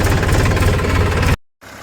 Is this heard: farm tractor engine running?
yes